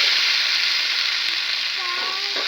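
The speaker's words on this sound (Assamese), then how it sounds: "এয়া এইফালে আদা নহৰুখিনি এনেদৰে ভাজা হৈ গৈছে" Ginger garlic paste fries in a pan with a steady, bright sizzle that holds loud and even throughout, with faint brief scraping near the end.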